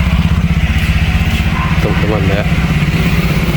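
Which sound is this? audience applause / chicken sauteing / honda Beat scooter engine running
honda Beat scooter engine running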